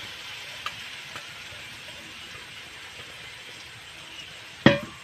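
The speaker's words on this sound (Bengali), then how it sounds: "এবার আমি 2-1 মিনিটের মতন আবার মশলার সাথে ভালো করে মিশিয়ে নেব এইভাবে" Mashed potatoes with Maggi masala are stirred in a softly sizzling pan, a steady low frying hiss with a few faint utensil taps and a sharp scrape or clink near the end.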